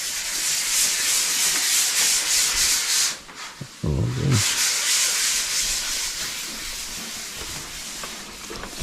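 Steady, close scratchy rubbing of sandpaper on a skim-coated surface continues throughout, with a brief dip in the middle and a short spoken word.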